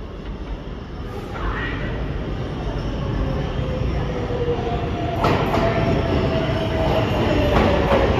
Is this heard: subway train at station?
yes